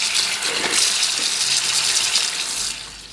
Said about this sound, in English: Drain the noodles in a colander while cold water is running.